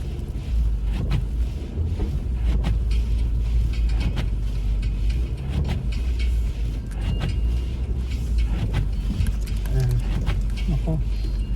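A light car driving slowly down an empty snowy street around midnight, a low steady road rumble with occasional clicks and bumps, while a person talks over it throughout.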